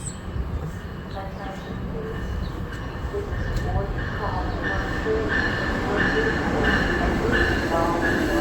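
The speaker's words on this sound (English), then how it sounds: "There's a MARC train at the same time." A MARC commuter train rolls through New Carrollton station with a steady, loud rumble and rhythmic wheel clatter that builds over several seconds, with faint squeals above it and voices speaking over the noise.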